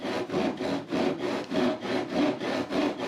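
Steady hand sawing through wood during a door restoration, with rhythmic back-and-forth strokes of roughly even pace, fairly quiet and close, with no voice over it.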